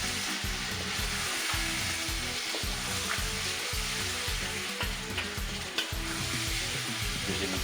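Blended tomatoes, from three large tomatoes, sizzle loudly in a pan of frying beef curry with carrots and potatoes, with a steady hiss and rhythmic stirring scrapes throughout.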